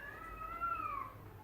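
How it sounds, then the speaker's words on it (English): Cats fighting somewhere in the background let out a single drawn-out, wavering yowl, fairly faint and distant, over a low steady hum. "There's cats fighting in the background."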